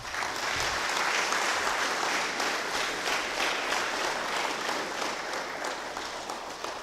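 A lecture-hall audience gives a steady, sustained round of applause at a religious lecture event, a dense wash of many hands clapping at moderate distance with no talking over it.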